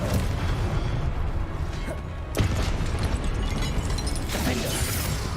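Confringo fire spell explosions from the Hogwarts Legacy video game, loud continuous blasting and crashing with a sharp fresh impact partway through and another near the end, mixed with game clatter.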